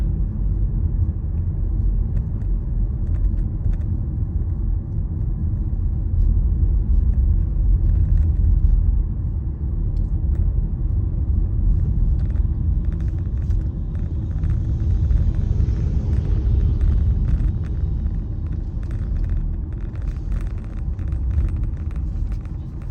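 A car cruising on a spring day through the small town of Blythewood, South Carolina, gives a steady low road rumble and engine drone throughout, with no talking.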